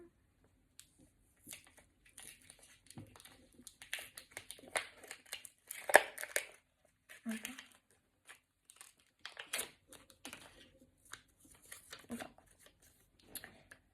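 Quiet plastic packet crinkling in short, scattered bursts, close by, with brief pauses between the rustles.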